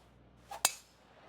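A single crisp golf club strike on a ball in PGA Tour 2K23, hit from about 170 yards out: one sharp, bright impact preceded by a soft swish, alone in a quiet setting.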